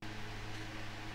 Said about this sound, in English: That's the fan.